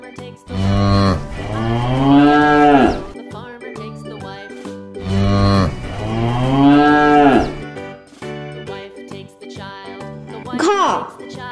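A cow and calf mooing: two long, drawn-out moos a few seconds apart, loud and close, with light bell jingling and a short higher call at the end.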